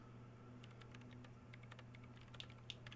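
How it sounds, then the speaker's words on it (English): Fingers tap a computer keyboard in Disco Elysium, a quick, irregular run of soft clicks that gathers pace, faint and close over a steady low hum. "She's behind the keyboard now, typing in some numbers that only she understands."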